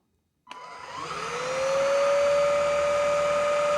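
An Oraimo S2 stick vacuum cleaner switches on after a moment of silence, its motor whining up in pitch and settling into a steady, close, loud drone with a sharp tonal whine, no voices.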